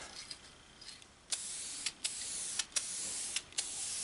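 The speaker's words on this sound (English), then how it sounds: "I had to take this can of spray into the house to thin it up some" An aerosol can sprays finish onto a turned catalpa wood bowl, hissing in short and longer bursts, a quiet pause followed by several sprays in uneven rhythm, close and fairly soft.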